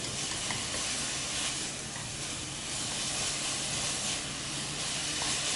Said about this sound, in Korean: 고기가 반 정도 있게끔 볶아줍니다.